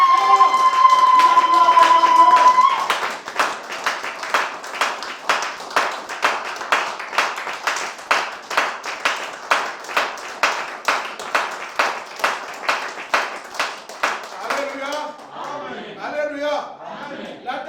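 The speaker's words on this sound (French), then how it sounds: "Si c'est Jésus, acclame très fort." Church congregation claps in a steady rhythmic beat after a sung note, with cheering voices joining and fading toward the end.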